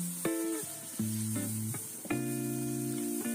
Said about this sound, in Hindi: अब इसे भी हम अच्छी तरह भून लेते हैं।